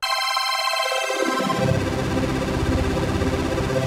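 An Arturia MicroFreak synthesizer's chord oscillator holding a sustained tonal chord whose timbre shifts steadily as a cycling envelope modulates it, thickening into a buzzy, rich texture, heard alone.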